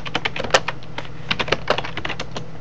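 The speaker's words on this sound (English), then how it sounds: "That slow-mo typing thing is what happens on lower-end machines" Typing on a computer keyboard running the Windows 10 Technical Preview on a lower-end machine: irregular bursts of close, clicky keystrokes with short pauses between runs, heard alone without speech.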